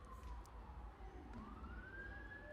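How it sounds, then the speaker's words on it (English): Emergency vehicle siren on Dale Mabry Boulevard, a single wailing tone sweeping down and back up, fairly distant under steady background noise. "as sirens go down Dale Mabry Boulevard."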